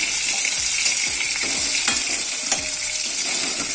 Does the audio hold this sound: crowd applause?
no